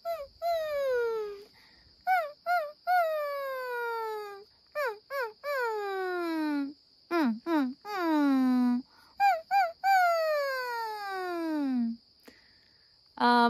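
A voice imitates a puppy whimper as a head voice strengthening exercise, producing a series of high, sliding cries that fall in pitch, some short and clipped, others long and drawn out, with brief gaps between them.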